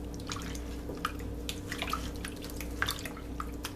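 Raw oxtails are rubbed together by hand in a bowl of salt water, giving soft wet sloshing and dripping splashes in an irregular rhythm, close and quiet over a steady low hum.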